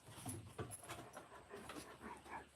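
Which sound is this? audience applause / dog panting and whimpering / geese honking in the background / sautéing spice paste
dog panting and whimpering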